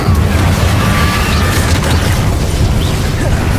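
Confringo and Bombarda spell blasts in Hogwarts Legacy, a steady dense rumble of booming explosions and crackling bursts loud throughout, with no pauses between impacts.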